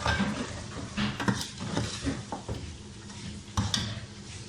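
Spices, cumin and whole black pepper, being stirred in a cooking pot for korma, with a spoon scraping and tapping against the metal in irregular strokes over a soft, faint sizzle.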